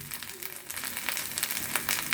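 Spice paste of onion, green chili and cumin, with coriander powder, sizzles in oil left from frying pabda fish for a mustard curry. The frying hiss is steady and close, with no pauses.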